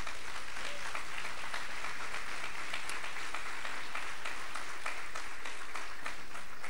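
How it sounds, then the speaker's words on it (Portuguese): A church congregation applauds for the Lord, a sustained, moderately quiet wash of many hands clapping with some distinct sharp claps, heard from a distance. "Uma salva de palmas para o Senhor."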